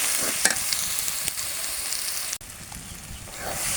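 Spices and chili powder sizzle and crackle in hot oil for a spicy chicken roast. The frying is steady and close, with a few brief stirring knocks.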